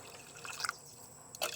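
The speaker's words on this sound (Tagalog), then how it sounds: "So konti lang yung ilalagay nating tubig, ganyan lang." Water poured into mung beans in a pot, a soft close liquid trickle with a couple of small drips and splashes, faint and brief, with no speech.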